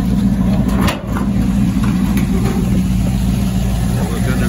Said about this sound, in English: We've got an LS under the hood. Nice exhaust on it, sounds good.